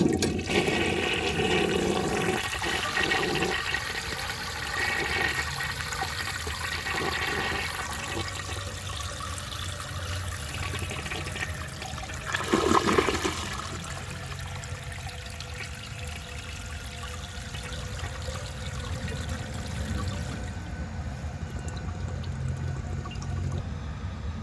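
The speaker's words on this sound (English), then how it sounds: "I'm going to go ahead and give that another flush and clear out the rest of the dirt there" A 1930 Eljer Sanus toilet flushes to clear leftover dirt from its bowl, a long, loud rushing and swirling of water close by that settles into steady refilling and trickling.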